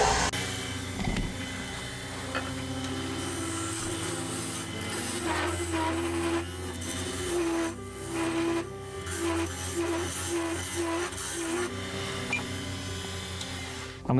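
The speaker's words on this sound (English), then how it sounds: "I'm just going to start hollowing out now. I'm going a lot faster now, I'm going closer to about 2000 RPM." A wood lathe spinning near 2000 RPM hollows out a hornbeam vase, giving a steady motor hum with tonal whine under scraping, rubbing cuts from the tool that swell and fade in irregular bursts.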